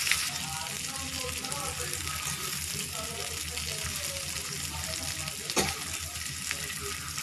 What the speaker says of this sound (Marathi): हे सर्व टाकून आपण तेलामध्ये जरा फ्राय करून घेणार आहोत.